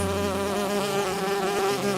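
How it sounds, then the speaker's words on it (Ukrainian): An angry bee swarm buzzes as a sound effect, a loud, dense droning hum with a wavering pitch that runs without a break for the whole stretch. No speech is heard over it. "Сердито загудів бджолиний рій."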